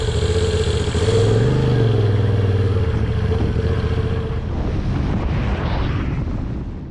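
A motorcycle on a short country ride in Shropshire, its engine droning loudly and steadily with a rising and falling tone, buffeted by heavy wind noise across the microphone.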